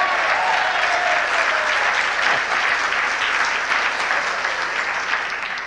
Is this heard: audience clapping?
yes